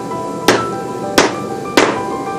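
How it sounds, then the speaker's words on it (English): A hammer strikes a lump of smelted iron three times, evenly spaced, each a sharp loud metallic clank with a brief ring over a low background hum. "One way that you can tell the difference is by hitting them with a hammer."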